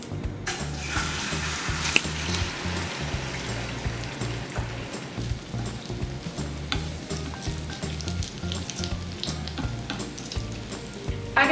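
Two spoonfuls of oil heating in a frying pan for a Spanish tortilla give off a steady, dense sizzle and crackle throughout, close and fairly loud, with no voices.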